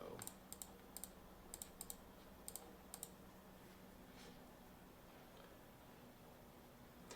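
Someone types a lot number on a computer keyboard: a few quick, quiet clusters of key clicks over a soft hiss, then the room stays still.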